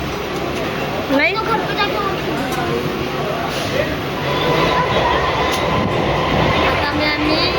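Steady rumble and rattle inside a moving train bound for Rajnagar, constant and close throughout, with people talking over the carriage noise.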